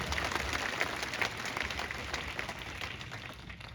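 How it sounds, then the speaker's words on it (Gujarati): A crowd at a political rally applauds steadily, dense clapping filling the whole stretch at a constant, fairly loud level with no pause. "એકવાર જોરદાર તાળીઓ પડવી જોઈએ સાહેબ"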